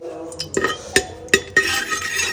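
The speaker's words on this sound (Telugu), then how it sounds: "మసాలా సరుకులన్నీ వేసేద్దాం ఇవి వేసేసి కొంచెం వేగాలన్నమాట" Whole spices tipped into hot oil and ghee in a pressure cooker for Guntur-style gongura chicken pulao, giving a few sharp clinks and scrapes of metal over a soft, steady sizzle.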